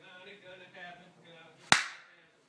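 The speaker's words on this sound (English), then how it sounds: "I clap." A single sharp hand clap, loud and close with a short decay, following soft background voices and music.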